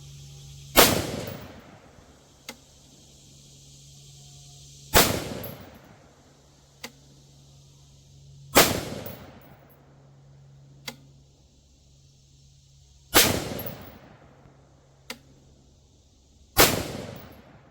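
Five loud rifle shots, each followed by a short fading echo, are spaced several seconds apart at a 110-yard range from a Bear Creek and Palmetto State Armory SPR build, with fainter distant pops in between.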